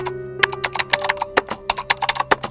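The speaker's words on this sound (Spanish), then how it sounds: "el teclado de su computadora se activaba solo en la sala" A computer keyboard typing fast and forcefully with no one at it, rapid close clicks and clacks in an irregular rhythm over a faint electrical hum.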